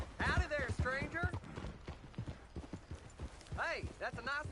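Horse hooves clip-clopping in Red Dead Redemption 2, a steady run of close hoof beats mixed under talking game characters throughout the short stretch.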